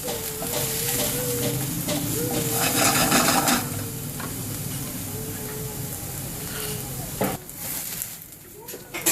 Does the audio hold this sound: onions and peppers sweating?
yes